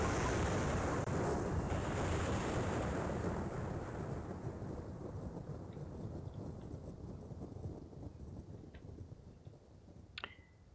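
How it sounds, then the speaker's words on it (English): Rolling thunder in the video game Thunderscape, a loud broad rumble that slowly fades over several seconds, leaving quieter ambience with a few faint clicks and a short high chirp near the end. "Because of course you can't have Thunderscape without thunder sounds."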